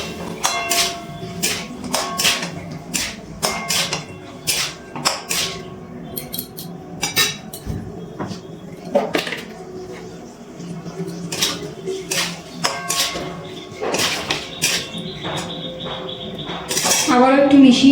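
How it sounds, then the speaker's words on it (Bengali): A spoon stirs Bengali potato curry (alur dom) made with new potatoes, peas and whisked sour yogurt in a metal pan over a low flame, giving repeated sharp clinks and scrapes in an irregular rhythm, close and fairly loud. "এবার আবার একটু মিশিয়ে নিচ্ছি।"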